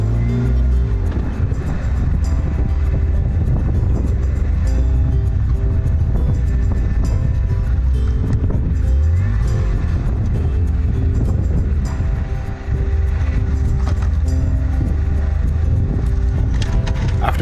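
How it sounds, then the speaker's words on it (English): A car engine revs hard while climbing a snowy hill in November, a loud, continuous low rumble that swells and dips throughout with no voices heard. "Give it some revs and let's get up this hill."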